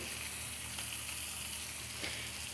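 Chopped onion and halved green chillies fry in hot mustard oil, giving a steady, close sizzle with a few brief louder crackles and no talking.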